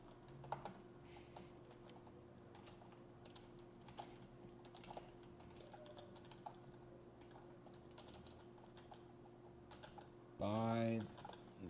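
Fingers type on a computer keyboard in quiet, irregular bursts of soft clicks, close and faint against a low steady hum, ending with a brief louder tonal sound.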